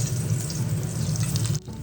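Hilsa fish sizzle loudly and continuously in hot frying oil, a dense close crackle that drops off abruptly near the end.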